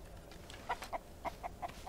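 Chickens in the survival video game Mist Survival clucking in a quick uneven series of short, moderately faint calls over a soft ambient background.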